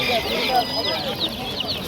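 Chickens and chicks at a poultry market cluck and peep in a busy chorus close by, while people talk over the birds.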